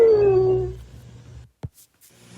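A single dog howls in a long, falling wail that fades out, followed by a brief soft thump and near silence.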